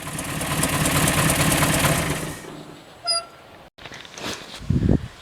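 A 1956 Mercury 100's engine idles with a steady, dense rumble for about two and a half seconds, then drops away, leaving a few faint clicks and light handling noises.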